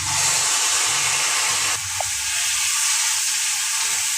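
Mustard paste, green chilli paste, Kashmiri chilli and a little coriander-cumin fry in hot oil for a rui fish curry, a loud steady sizzle and hiss that briefly drops after a couple of seconds, then carries on.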